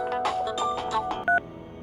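Telephone tones in a quick series of electronic beeps, ending in one louder, steadier tone, like keypad dialing, heard close and clear with no talk over them.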